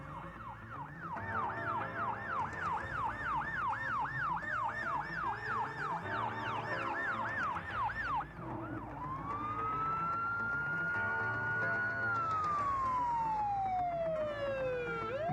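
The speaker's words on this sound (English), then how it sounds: "Drivers should always pull cautiously to the side when fire trucks are using sirens and flashing lights." Loud fire truck sirens wail nearby, first a rapid rising-and-falling yelp, then a long slow wail that climbs, holds and sweeps down, over rumbling traffic.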